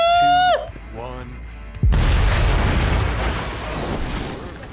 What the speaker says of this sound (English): Oh, he's gonna blow that thing up with a C4.